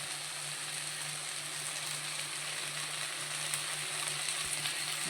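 Onions and tomatoes frying in a pan for paneer butter masala, a steady soft sizzle that runs unbroken and fairly quiet throughout, with a low hum beneath and no talking.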